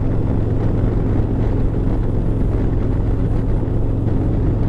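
A Harley motorcycle rumbles in a deep, steady drone, continuous and fairly loud throughout, with no talk over it.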